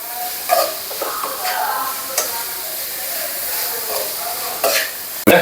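Chopped onions fry and sizzle in a pan for homemade egg fried rice, a steady close hiss broken by repeated scraping stirs of a spatula, with no talk over it.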